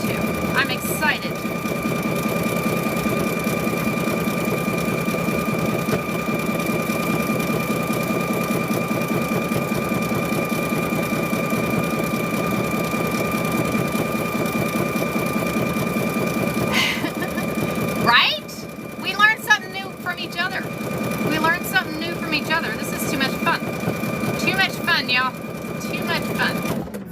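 A sewing machine stitches fabric for a car seat cover, a steady mechanical whir with a constant tonal hum running for about eighteen seconds, then stopping and starting in short bursts as someone talks over it.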